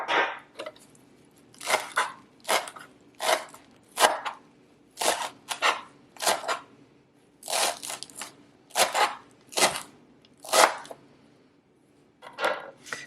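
Fresh cilantro being chopped on a board, rapid bursts of knife strikes in uneven clusters with short pauses, close and crisp, no talking.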